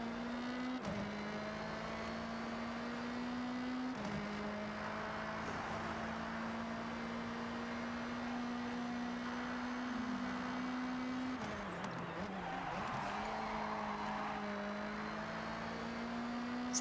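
Continuous engine drone of a car racing in Forza Horizon 6, a steady loud tone with brief dips around gear shifts and a rougher stretch near the end, with no talking over it.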